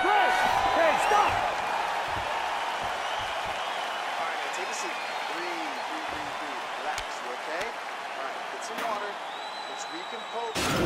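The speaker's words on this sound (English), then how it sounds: "So the crowd voicing its appreciation after that round" A steady arena crowd roars and applauds after a round in the EA Sports UFC 4 video game, a broad sustained wash of noise under a commentator's talk.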